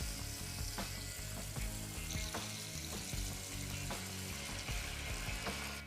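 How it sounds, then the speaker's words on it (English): Veal rolls filled with ham and cheese sizzle and fry briskly in a pan before being deglazed with white wine, a dense, continuous crackle with steady rhythmic clicks throughout. "Just a little bit more on this side and then I deglaze it with white wine."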